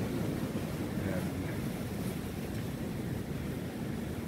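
A steady, roaring wind drives blowing snow during a mini-blizzard, a continuous broadband rush close to the microphone with no distinct breaks.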